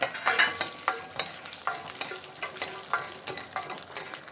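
Cashew nuts fried in ghee in a kadai, with a soft sizzle and regular scraping stirring strokes repeating about twice a second, close and quiet, no talking.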